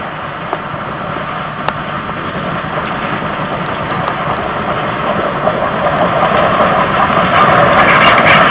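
Narrow gauge steam train departing, a steady rumbling roar of engine and rolling stock that grows gradually louder over the span, with no voices.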